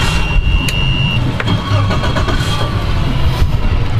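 A Glasstream 273 SCX center console cuddy boat's engine starts and runs steadily, a loud, continuous low rumble with a brief higher whine early on, with no talk over it.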